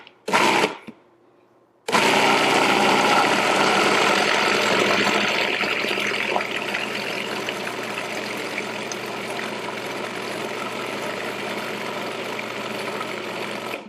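A food processor motor runs steadily, blending sweet potatoes with browned butter, starting after a brief burst and quiet pause and then whirring continuously at a loud, even level.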